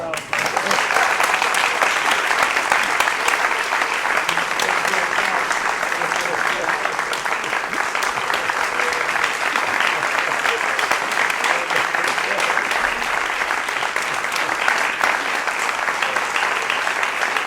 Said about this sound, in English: Get applause for your cello playing.